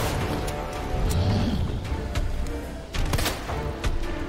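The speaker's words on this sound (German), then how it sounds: "was war denn das jetzt für ein Schuss?" A gunshot in the video game Resident Evil 2 Remake, a sharp report among dense game sounds and rumbling, with a few further thuds, loud and busy throughout.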